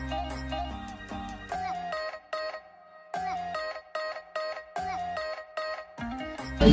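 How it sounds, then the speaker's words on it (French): An electronic school bell chime at a school in Tokyo, a melodic sequence of bright tones rising and falling with short gaps, moderately loud and heard alone. "il y a même le bruit de la sonnerie"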